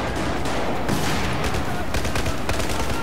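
Dense gunfire in Battlefield 4 multiplayer, rapid overlapping shots and bursts that form a loud, continuous fusillade with no pause.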